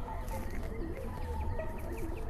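Birds calling outdoors in the evening, with doves among them, their soft coos and chirps scattered faintly over a steady low background rumble.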